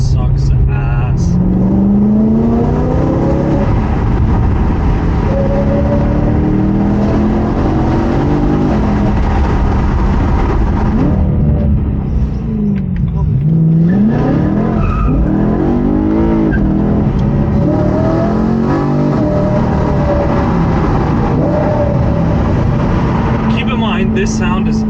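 A BMW M3 fitted with a Grail exhaust revs hard and slides on a mountain road, its loud engine note rising and falling with tire squeal throughout; a person speaks over it.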